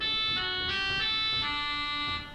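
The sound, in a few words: pipe organ oboe stop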